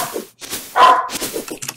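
A dog barks indoors in a few short, sharp bursts, with one louder bark standing out near the middle.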